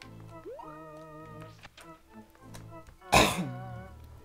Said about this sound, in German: Huster.